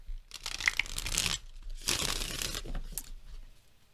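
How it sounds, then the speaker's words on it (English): Two rapid riffle shuffles of a stiff tarot deck, each a dense papery rush lasting about a second, close up, separated by a short pause. "Shuffle demonstration, as usual."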